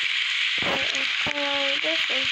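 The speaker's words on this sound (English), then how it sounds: "it's raining. It's raining!" Rain in the Roblox video game, a dense steady hiss throughout, with a voice speaking over it.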